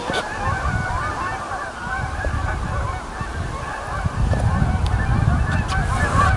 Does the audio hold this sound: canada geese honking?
yes